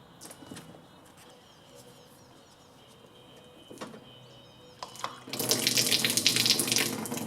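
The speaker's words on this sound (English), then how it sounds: "And we'll drain the pump." Water pours out of a drained pressure washer pump, a steady broadband splashing rush that starts quietly and swells loud about five seconds in, continuing alone without talk.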